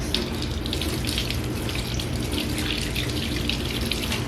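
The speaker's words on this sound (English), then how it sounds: "run it under some more water" A makeup brush rinsed under a running tap, with water streaming into a sink in a steady, close, continuous splash.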